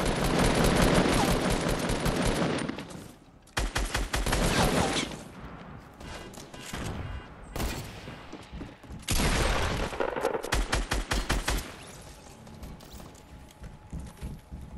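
Gunfire in a Fortnite Battle Royale match, loud rapid bursts of automatic shots in several long volleys separated by short pauses, close and dominant.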